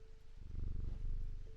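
Jupiter, a cat in the video game Strange Antiquities, purrs softly and continuously, a low fluttering rumble that swells slightly and keeps a steady rhythm.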